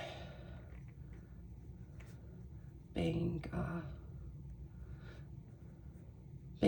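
Pen scratching on paper while noting bank figures for a monthly budget, faint soft strokes in short bursts, close, with a brief louder handling noise partway through.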